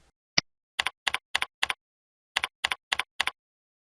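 Computer keyboard keys clicking in two quick bursts of four or five taps each, preceded by a single sharp tick, close and clean in a quiet room with no voices, as information is typed into required fields of an online job application.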